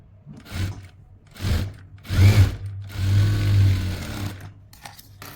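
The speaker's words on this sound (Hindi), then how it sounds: "डबल स्टिच कर लेंगे इसे।" A sewing machine double-stitches a kurti seam in several short runs, the motor buzzing in bursts with brief pauses and one longer steady run, close and fairly loud.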